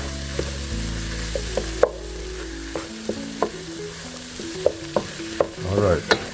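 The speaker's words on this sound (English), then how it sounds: "We'll add the peppers to the onion mushroom, and stir it." Peppers, onion and mushroom fry in a pan under a soft, steady sizzle while a utensil scrapes and taps the pan in scattered strokes, close by.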